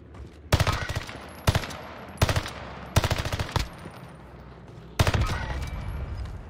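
Automatic weapon fire in the shooter Warzone Caldera comes in five sharp bursts of rapid shots, loud and close, separated by short gaps with faint background noise between them.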